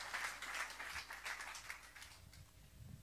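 A church congregation applauds during a French-language worship service, a faint, diffuse patter of many hands that fades gradually toward the end.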